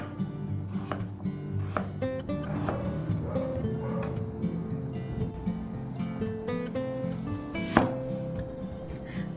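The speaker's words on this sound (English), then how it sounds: "Now cutting the papaya into pieces and getting them ready for the urli." Knife chopping green papaya into pieces for a Kerala dal curry, with repeated sharp taps of the blade on a board over a steady background hum and faint clatter.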